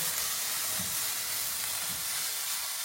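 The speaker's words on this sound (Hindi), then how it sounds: "ये देखें अब हमारा प्याज जो है कैरमलाइज होना शुरू हो गया है।" Sliced onions sizzle and fry steadily in a hot pan as they begin to caramelize, a continuous close hiss with a few soft stirring scrapes.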